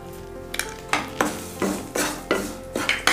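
Peanuts frying in a little oil with turmeric and salt, stirred in a pan: rhythmic scraping strokes of a spoon about every half second over a soft continuous sizzle, close by.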